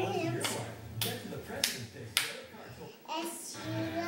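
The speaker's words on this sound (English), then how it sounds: "Clap your hands." Several sharp hand claps land in a loose rhythm at a church-style singing gathering, fairly close and crisp, with a sustained voice or music bed underneath.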